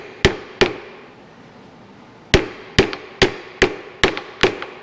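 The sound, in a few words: hammer tapping on a backhoe hydraulic cylinder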